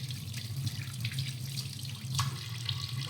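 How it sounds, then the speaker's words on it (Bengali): Tap water runs steadily into a sink while pieces of katla fish are washed, with a constant splashing stream heard up close and no talking. "মাছগুলিকে প্রথমে ভালো করে ধুয়ে পরিষ্কার করে নিচ্ছি।"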